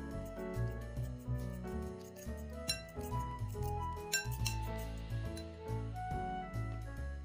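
Salted chopped vegetables are mixed in a bowl, the spoon ringing bright clinks against the bowl in an irregular run of taps, fairly close and clear, with no talking.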